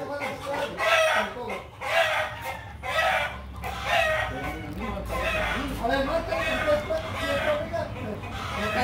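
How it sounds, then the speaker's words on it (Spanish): A rooster crows and clucks repeatedly nearby in a home kitchen setting while mole is being cooked, with someone talking over and between the calls. "Oye, gallo."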